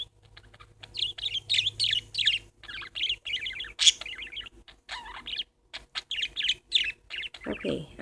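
Pet parakeets in a home chirp and warble in busy, overlapping bursts of bright song, close and fairly loud, with brief pauses between phrases and a low hum beneath.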